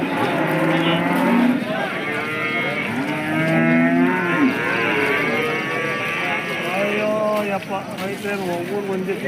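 Hallikar cattle at the busy KG temple cattle market low repeatedly in long, loud, wavering moos that overlap one another, with the murmur of people talking in the background.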